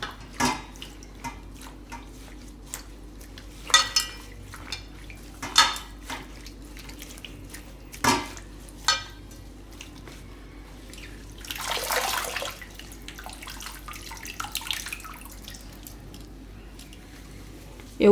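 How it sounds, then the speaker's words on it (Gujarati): Rose petals washed in a vessel of water in a home kitchen, intermittent sloshing and splashing with scattered clinks against the container and a longer swirl of running water midway, close and moderately loud. "તો બધી આ રીતે ધોઈ નાખશું પાણીમાં"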